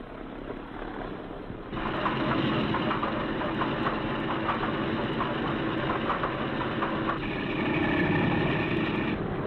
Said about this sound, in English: just as soon as the number 2 engine starts